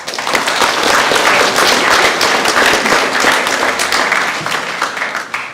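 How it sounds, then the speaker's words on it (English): A school assembly crowd applauds a student, steady dense clapping filling the hall at close range without pause, no voices over it. "can we please give her a round of applause?"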